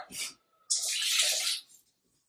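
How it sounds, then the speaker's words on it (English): Regular tap water poured into a cooking pot for ramen broth runs as a steady, close splashing stream for about a second, after a brief burst of talk. "We're going to add some regular tap water to it, probably about a cup, same thing."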